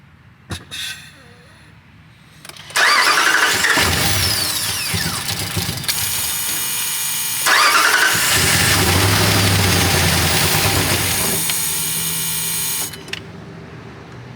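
A 2019 RAM pickup truck's 5.7 engine cranks, then catches and roars loudly, running steadily with a brief surge before cutting out near the end; the engine has a no-start fault from a vandalized fuel system.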